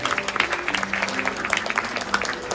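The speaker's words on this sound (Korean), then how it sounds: "여러분 따뜻한 박수 부탁드리겠습니다" Wedding guests clap warmly and steadily in an indoor wedding hall, the applause continuous with a faint voice underneath.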